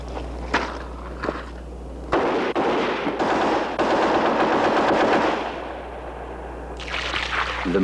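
Bursts of automatic fire from an HK weapon during a 1970s water reliability test, loud rapid volleys with brief pauses between them outdoors.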